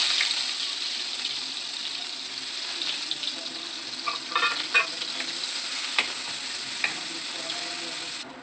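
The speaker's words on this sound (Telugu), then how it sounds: "ఆనియన్స్ వేసుకోవాలి." Onions fry in hot oil in a pan for chicken manchurian, making a continuous bright sizzle with occasional crackles and light stirring taps.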